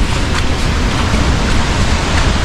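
Steady rain pours after a storm in rural Vietnam, a constant dense hiss of drops on surfaces, loud and close throughout with no talking.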